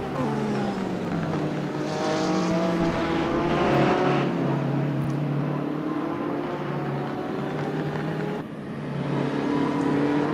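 GTE-class endurance race cars, including a Porsche 911, roar on the Spa circuit, a steady loud engine drone with rising and falling pitch as cars pass, continuous with no pauses.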